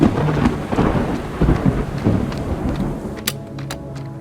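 Video-game thunderstorm: steady rain hiss with heavy rumbling thunder rolling through, continuous and loud, with a few sharp crackles near the end and no talk.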